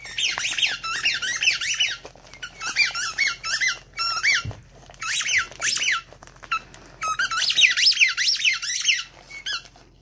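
A malamute repeatedly squeaks a new squeaky toy received as a Christmas gift, producing loud, rapid bursts of high squeals in irregular clusters with short pauses, close to the listener and with no talking.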